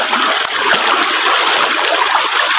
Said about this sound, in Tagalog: Malakas yung agos.